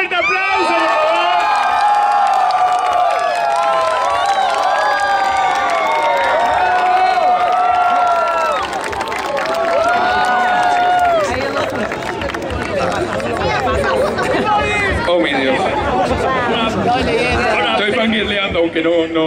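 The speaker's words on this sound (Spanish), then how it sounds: "Bim Furuya, un fuerte aplauso, por favor." Festival crowd cheering, whooping and applauding for Bin Furuya at a comic convention in Lima, a loud sustained roar with high shouts and excited voices throughout.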